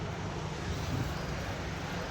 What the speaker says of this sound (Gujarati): અને પવન એ જોરદાર છે. અને ઠંડો પવન છે.